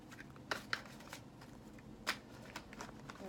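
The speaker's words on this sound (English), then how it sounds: "Make sure the cards get really good and shuffled." Tarot cards are shuffled in short riffled bursts, soft and close, a few quick flutters separated by brief pauses.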